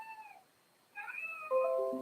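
A cat meows outside a room, wanting to come in. Several soft, fairly close meows come in quick succession, with brief pauses between them in a quiet room.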